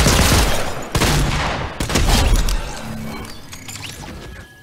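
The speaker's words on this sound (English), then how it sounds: "I can use the shotgun all day." Loud gunfire from a shotgun in the Fortnite video game, with a dense burst of blasts at the start followed by two more sharp shots about a second apart, then fading game effects.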